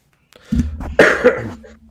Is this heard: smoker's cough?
yes